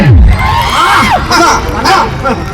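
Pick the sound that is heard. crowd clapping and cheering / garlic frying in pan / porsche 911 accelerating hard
crowd clapping and cheering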